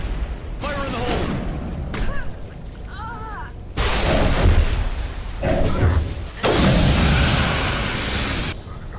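Explosions and gunfire in the video game Mass Effect 1, with a broadband blast near the start followed by two heavier booming bursts around the middle and end, loud over a dense background of combat noise and game voices.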